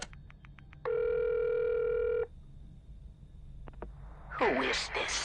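In the Friday the 13th game, a phone gives a run of short dial pulses, then a steady ringing tone for over a second, followed by faint clicks and a voice speaking at the end.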